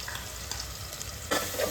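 Onion and ginger garlic paste fry in a pan for a spicy hotel-style mutton curry, giving a soft, brief sizzle with light stirring scrapes close by.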